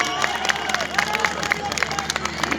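A crowd at an outdoor election campaign gathering in Kumbhalgarh, Rajasthan claps to welcome an arriving guest, scattered hand claps over a steady murmur of voices and babble.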